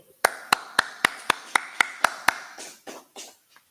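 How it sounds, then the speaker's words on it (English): A group claps in a slow, even rhythm, with about nine sharp, evenly spaced claps followed by a few looser, softer ones as the clapping fades out. "All right, clap it up."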